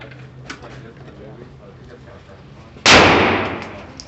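One loud, close gunshot from an S&W M&P 15-22 pistol cracks out near the end, then rings and fades, after quiet outdoor background with faint voices.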